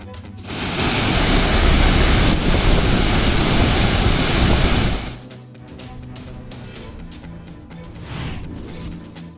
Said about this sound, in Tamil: ஆர்ப்பரிக்கும் அருவிகளை கண்டு ரசிக்கும் சுற்றுலா பயணிகள்.